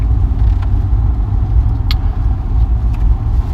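Low steady road rumble of car traffic on a road in Kingsland, Texas, a vehicle passing fairly close with a faint creak, no talk.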